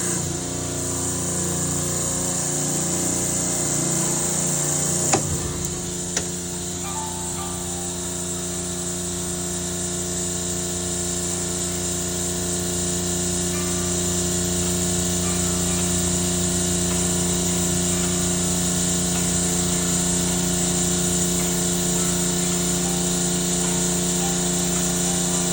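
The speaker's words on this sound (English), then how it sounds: "All right, pumping it down right now." Copeland Digital Discus refrigeration compressor pumping down, a loud steady mechanical hum with strong tonal drone and a brief clunk early on, running continuously and unchanged for the rest.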